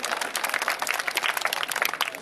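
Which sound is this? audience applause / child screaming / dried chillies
audience applause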